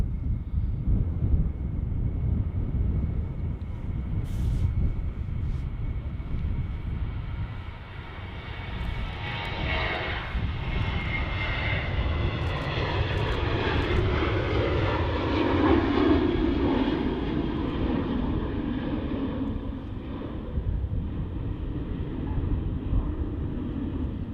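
Aircraft engines roar at Manchester Airport, a loud sustained jet rumble that swells and shifts in pitch as a plane moves, heard alone with some wind buffeting.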